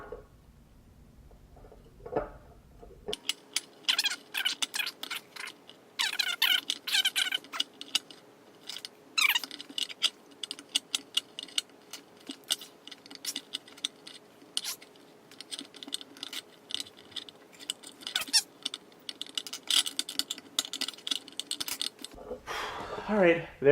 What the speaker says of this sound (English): let's get my trusty pocket knife and tear this sucker off